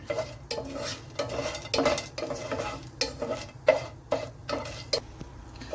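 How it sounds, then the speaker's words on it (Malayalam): Whole spices frying in a pan with bay leaves, cinnamon, star anise, cardamom and cloves for a Kerala-style chicken pulao, stirred with a utensil in a steady series of scrapes and clinks over a soft sizzle, close and alone. "3 ബേ ലീഫ് കൂടി ചേർത്ത് നമുക്കിതൊന്ന് ഇളക്കാം"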